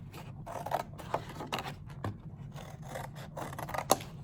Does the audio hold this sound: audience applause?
no